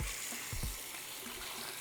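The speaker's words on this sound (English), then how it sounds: "Place them in a pot and cover them with water." Water pours into a pot of baby potatoes with a soft, steady hiss and splash, faint and brief, with no speech over it.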